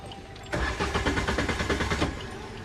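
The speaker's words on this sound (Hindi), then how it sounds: "यार गाड़ी स्टार्ट क्यों नहीं हो रही?" A car engine cranking over from an ignition key turn, a rapid pulsing churn that runs for about a second and a half and then drops back without settling into a clear idle, loud and close.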